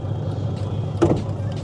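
Inside the cabin of a C218 Mercedes-Benz CLS350 CDI, the hood release lever is pulled, giving one short plastic click-clunk over a low steady hum.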